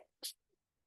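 A single short, sharp sneeze bursts out in an otherwise quiet moment during a spoken talk, close and fairly loud, over in a fraction of a second.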